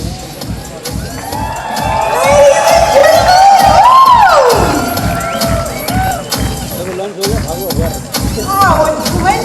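A lively crowd at a Vivo V5 smartphone launch event cheers, whoops and shouts in a continuous loud babble, with a rising whistle-like cry in the middle and voices talking throughout.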